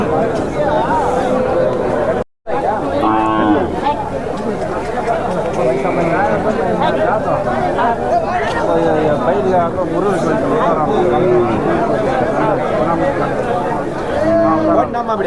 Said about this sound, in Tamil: பசுமாடுங்க